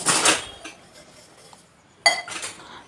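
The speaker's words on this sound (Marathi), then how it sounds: "काही भांडी असतात जी नाश्त्याची, चहाची असतात ती मी घेते आवरून" Breakfast and tea dishes are cleared up close by: two bursts of clinking cutlery and dishes knocking together, separated by a quieter pause with a few small taps.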